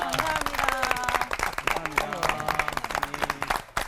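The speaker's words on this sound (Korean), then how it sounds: "특별한 찬양 이야기 들려주신 세 분 목사님께 합동 박수" A studio audience on a Korean Christian TV program claps together for three pastors, bursts of applause mixed with music and other sounds, with the clapping rising and falling in uneven surges.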